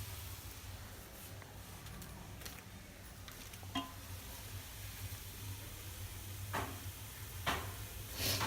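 Vegetable pulao with masala is stirred in a pan under a quiet low sizzle, with scattered scrapes and clicks of the spoon against the pan and a faint background hum.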